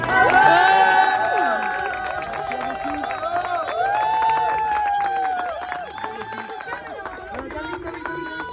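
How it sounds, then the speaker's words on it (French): An audience at a live show applauds and cheers, with whistles and shouting children over a dense bed of clapping that peaks early then slowly thins, and excited voices call out throughout. "On peut les applaudir bien fort."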